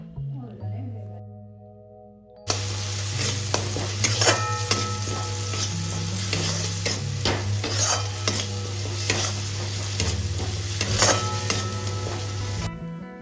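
Spice masala with chilli powder, sugar and a boiled whole tomato being fried and stirred in a pan, a continuous sizzle broken by repeated clinking scrapes of a spoon against metal, starting abruptly after a quiet hum.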